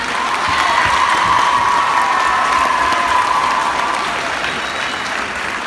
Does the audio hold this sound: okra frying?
no